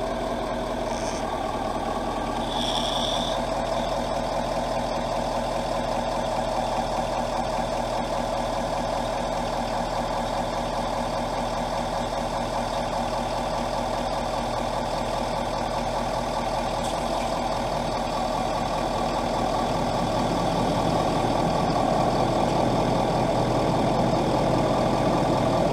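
A 2017 Ford F250 4x4 truck engine idles steadily for the whole stretch, a close, constant low rumble with a faint mechanical hum and no talk, the level swelling slightly near the end.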